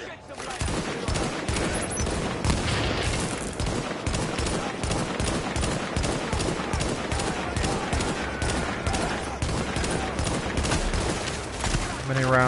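Sustained automatic gunfire from The Division emptying a full magazine against a heavy enemy, rapid dense shots running nonstop at high level for the whole stretch, with game sounds mixed in.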